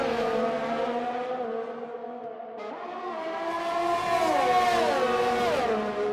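Racing cars in an Xbox racing game, including a McLaren and a Williams, roar past in a steady engine drone with rising and falling pitch as they pass, loud and continuous with no talking.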